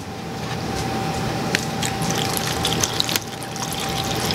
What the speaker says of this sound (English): So I'm going to put in water.